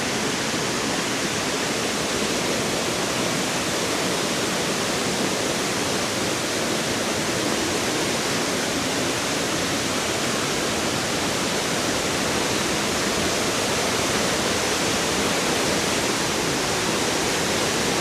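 A stream's flowing water rushes steadily, a loud, unbroken broadband wash that stays even for the whole stretch with no voices over it.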